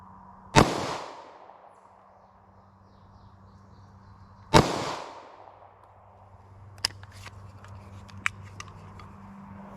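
Two loud, sharp 9mm pistol shots are fired into a test wall from about 10 to 12 feet, each with a short ringing decay, spaced about four seconds apart, followed by faint clicks and handling.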